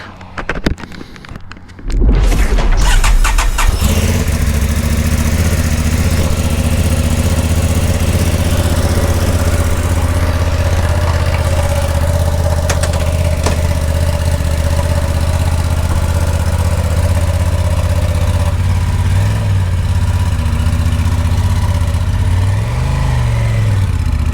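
A brand-new motorcycle, an Aprilia Tuareg 660 or Honda Transalp 750, starts after a few seconds of handling noise, then settles into a loud, steady idle close by, with a couple of brief blips in revs near the end.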